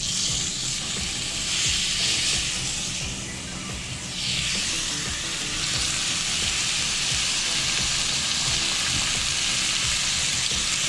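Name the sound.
New York strip steak sizzling in a hot oiled pan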